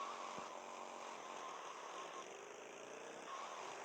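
A vehicle engine in the GTA Vice City video game drones steadily and loudly throughout, a continuous revving hum with no talk over it.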